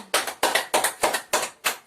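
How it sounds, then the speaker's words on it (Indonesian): Six sharp, evenly spaced bursts of classroom applause for a classmate, a small group of students clapping together in short clustered rounds, close and fairly loud with no talking. "Berikan tepuk tangan untuk teman kalian."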